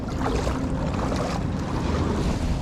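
Fishing boat trolling for kingfish out on the sea, its engine a steady low drone under rushing wind and water slap, continuous and close throughout.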